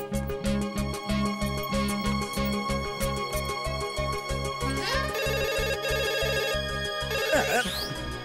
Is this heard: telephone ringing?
yes